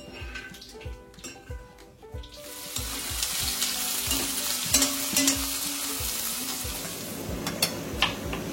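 Onions frying until golden brown for pav bhaji, a steady loud sizzle with rhythmic scraping and stirring strokes, clattering utensil hits on the pan rising through the middle and end.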